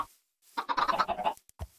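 Chickens in a video game let out a short burst of clucking and squawking calls, fairly loud and close, followed by a brief low thump.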